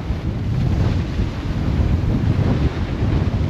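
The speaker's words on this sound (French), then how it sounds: "on a toujours plus de 30 nœuds de vent" Strong wind over 30 knots roaring across a sailboat at sea at night, a steady loud broadband rush with buffeting on the microphone and wave noise underneath, with no voices.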